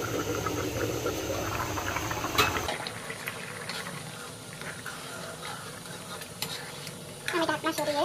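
A pumpkin and prawn curry is stirred in a pan, with soft scraping and a bubbling simmer that go on steadily. A brief clatter from the lid or spoon comes near the middle.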